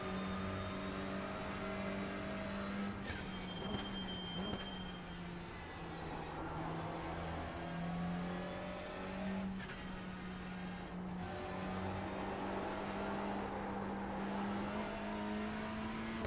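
A race car engine drones and revs during an AI race session at Donington National in the iRacing sim. A steady, harmonic engine tone rises and falls, with sharp shift-like breaks near the start and again partway through.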